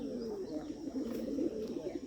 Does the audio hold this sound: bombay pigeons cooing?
yes